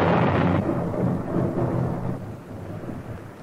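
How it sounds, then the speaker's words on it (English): Deep rolling thunder rumbling loudly and continuously, with a heavy crack at the start that settles into a long, fading growl. "his anger caused thunder and lightning"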